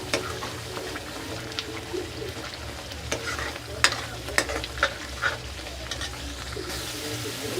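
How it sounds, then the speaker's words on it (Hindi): Chicken curry masala fries and sizzles in a pan while it is stirred, with a steady sizzle under intermittent scraping and clinking of the spoon against the pan, close and continuous without talking. "इसको थोड़ी देर भुनने देंगे।"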